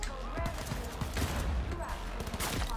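Rapid pistol shots from Cyberpunk 2077 crack through a dense, noisy firefight, several quick reports in a row under a continuous wash of game sound and talk.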